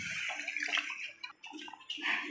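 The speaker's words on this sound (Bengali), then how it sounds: "এবার জল দিয়ে দিচ্ছে" Water is poured into a pan of spiced mashed potatoes, giving a close, bubbling splash and gurgle that runs continuously through the short moment.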